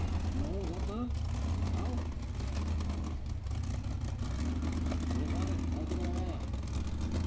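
A Formula Offroad car's engine idles and burbles as it slowly turns around at an Icelandic off-road event in Egilsstadir, a continuous low rumble heard from a distance beneath talking.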